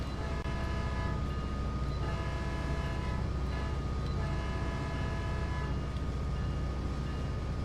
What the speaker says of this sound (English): I think I blew my horn enough.